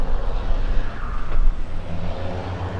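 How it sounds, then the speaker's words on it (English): A low rumbling water truck engine runs steadily in the background in St. Thomas, moderately loud, with no speech. "You're getting the full effect with the water truck noise in the background and all."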